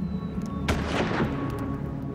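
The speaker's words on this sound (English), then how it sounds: "In the midst of the gunfire," Gunfire from a manhunt shootout among trappers, soldiers and lawmen in the northern wilderness, with one sharp shot cracking out over a dense, continuous rumble of background noise.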